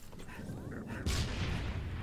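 A grenade blows up in the Halo Reach campaign, one sharp boom at about the midpoint with a rumbling tail, following quieter game noise.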